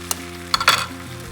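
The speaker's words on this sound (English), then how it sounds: "break in the egg." Eggs sizzling as they are broken into a hot frying pan for a breakfast of veggie bread and eggs, short crackling bursts of frying with a stirring scrape, close and fairly loud, no talking.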